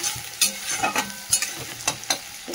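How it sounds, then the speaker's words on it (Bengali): Chopped onion sizzles in hot oil in a pan, with a steady frying hiss broken by several close scraping stirs at an uneven rhythm. "পেঁয়াজটা ভাজা হোক"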